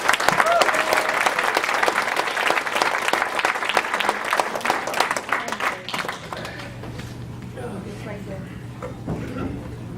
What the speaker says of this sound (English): So give a round of applause for Eric.